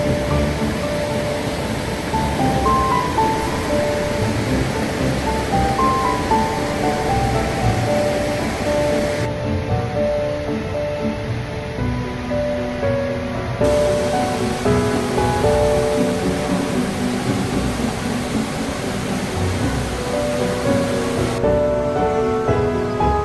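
Steady, broadband rush of Bear Run river water flowing past a scenic overlook, continuous and fairly loud throughout with no voices.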